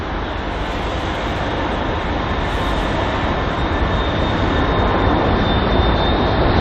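British Airways A320-200 airliner at London Heathrow, a loud steady jet engine roar with a faint high whine, continuous and close throughout.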